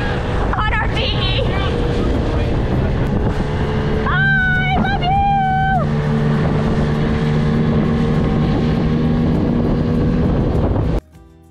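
A motorized dinghy skims across open water en route to Puerto Rico, its outboard motor droning steadily under heavy wind and water noise, with a brief whistling tone partway through before the sound cuts off abruptly.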